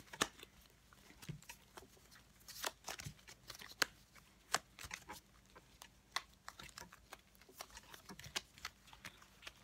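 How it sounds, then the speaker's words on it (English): Playing cards being shuffled close up during a card trick, a quiet run of soft riffling taps and flicks with scattered sharp clicks, no talk. "go ahead, shuffle it up, and then pick out 4 cards and place them on the table"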